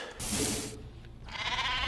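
A goat bleats twice in StarCraft II, with a wavering call followed by a second one, both close and clear and heard alone.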